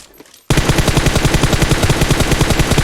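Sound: gunfire from the video game PUBG Mobile

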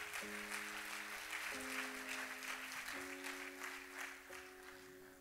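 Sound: applause in church

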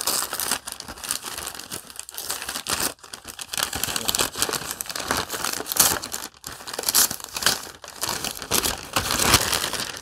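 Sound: crinkling

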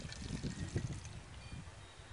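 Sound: water being poured into a cup

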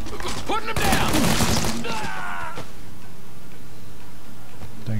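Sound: gunfire in the video game Mafia III

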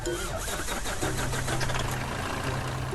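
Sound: truck engine in video game Truck Simulator USA Revolution

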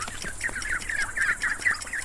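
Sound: ducklings

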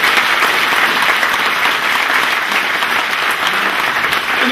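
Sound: audience applause

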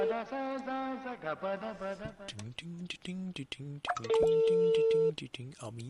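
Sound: telephone ringing during a radio prank call

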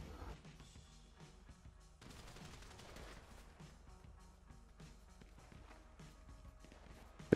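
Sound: gunfire in the video game Grand Theft Auto V

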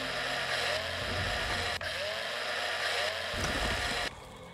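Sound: drill running in video game Breathedge

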